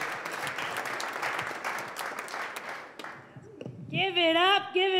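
Comedy club audience applauding as a stand-up set ends, a steady broad wash of clapping for about three seconds that fades, then a host's voice takes over.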